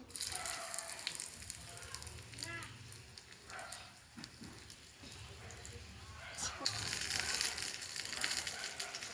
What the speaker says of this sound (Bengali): এখন এটা দিয়ে দেবো, পেঁয়াজ আর মরিচ।